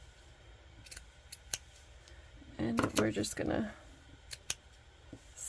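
Scissors snipping crochet yarn while trimming fringe on a boho heart coaster, several short crisp snips scattered throughout, close up, with someone briefly talking in the middle.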